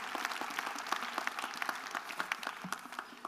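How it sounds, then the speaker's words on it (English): Audience applause at a dental and oral health congress awards ceremony, a steady patter of many hands clapping with sharp individual claps standing out, moderately loud and with no voices over it. "Let's give them a round of applause."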